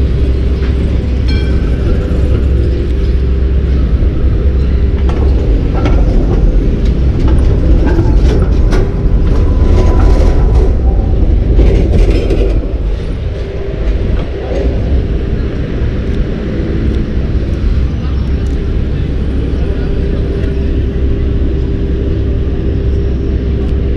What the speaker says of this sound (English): These trams are about to go.